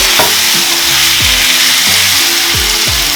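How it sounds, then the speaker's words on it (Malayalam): Boneless marinated chicken, with ginger-garlic paste and salt, sizzles loudly in a hot pan for a chicken biriyani, a dense steady frying hiss broken by repeated scraping strokes of stirring. "മാരിനേറ്റ് ചെയ്ത ചിക്കൻ ആഡ് ചെയ്ത് കൊടുക്കാം."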